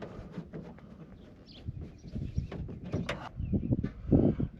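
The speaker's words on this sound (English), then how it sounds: "so why doesn't the window crank work?" The window crank and window mechanism of an old car are operated, giving close rhythmic creaks, squeaks and grinding scrapes that grow louder toward the end, with no talk.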